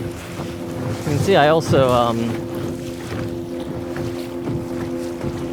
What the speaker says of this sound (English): hopefully I'm leaving myself enough ceiling to where I'm not just completely drowned out by wind